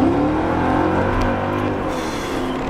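A Mercedes-Benz E55 AMG accelerates hard, its engine note a loud, steady roar that holds throughout with no one speaking.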